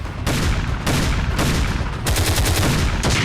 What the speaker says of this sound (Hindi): राजस्थान की रेत में थल सेना के तोप और गोले बरस रहे हैं